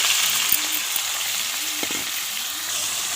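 Ground masala spice paste sizzling in hot oil in a kadai while cooking a village-style prawn curry, a steady broadband hiss with a few soft stirring scrapes, close and continuous.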